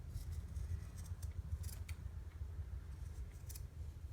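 Scissors trimming a handmade fabric flower into a circle for journal decorating, a few soft snipping cuts at close range over a steady low background hum.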